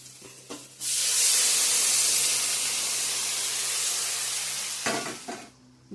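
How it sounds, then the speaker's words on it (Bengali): Water splashes into a hot pan and sets off a loud, sustained steaming hiss that lasts several seconds before dying down, with brief clatter and stirring at either end. "চলো জলটা দিয়ে দিই"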